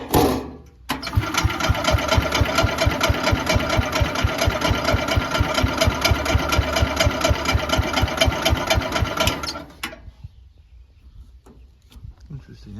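An engine fires up at a spring startup after its clutch disc is freed, then runs at a fast, even idle for about nine seconds before cutting off abruptly. The sound is loud and close, and faint background noise follows.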